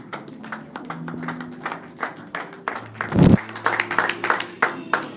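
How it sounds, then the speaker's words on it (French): Scattered clapping from a church congregation after a Bible reading, a few hands at a time rather than a full ovation, with a thud and a low hum beneath. "Est-ce qu'on peut applaudir cette parole de Dieu?"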